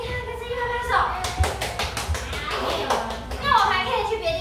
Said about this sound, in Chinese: 跟声音拍拍手